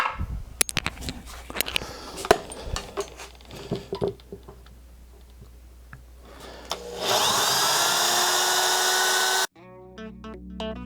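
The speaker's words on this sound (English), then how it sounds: "So I'm going to drill 3 holes here" Scattered clicks and knocks give way to a power drill whirring steadily into wood for a couple of seconds before cutting off abruptly.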